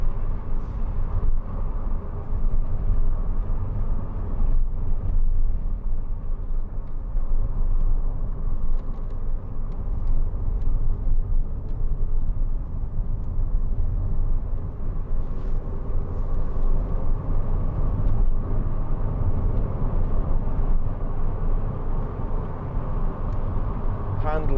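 A 2004 MG TF 1.6 two-door sports car is driving, giving a steady low engine and road drone heard from inside the car that continues evenly throughout.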